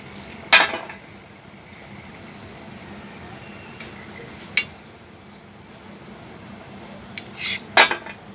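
Food set down onto a metal plate (thala) with a spoon, giving a few sharp clinks and scrapes: one at the start, one midway, and a quick cluster near the end, over quiet room noise.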